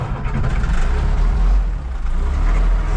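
A 6.0 diesel pickup truck engine catches and settles into a steady, loud, deep idle, its low rumble running continuously with no one speaking.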